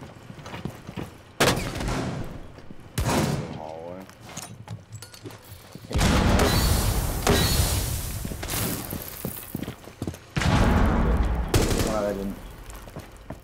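Video game gunfire cracks out in several loud bursts over a dense game soundscape, with players talking over the shots throughout.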